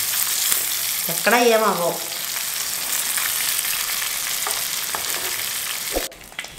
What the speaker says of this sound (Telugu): ఇప్పుడు 8 నిమిషాలు బట్టి వేపుతున్నాను